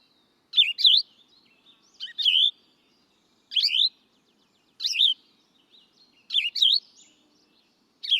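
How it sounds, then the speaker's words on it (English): Recorded bird song: six short, bright phrases of rapid chirps and upward-sweeping whistles, evenly spaced about every second and a half, clear and close against near silence. "So that's a bird's song."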